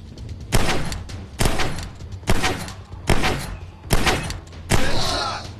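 Six heavy gunshots in the VR game Dinosaur Island on Meta Quest 3, fired one at a time at a steady pace, each a loud close crack with a short decaying tail.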